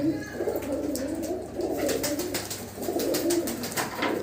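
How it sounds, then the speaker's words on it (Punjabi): Pigeons coo steadily in soft, throaty, repeated calls, fairly close, over a constant low background murmur. "ਵੱਡੇ ਕਬੂਤਰ ਬਾਈ ਦੇ ਆ"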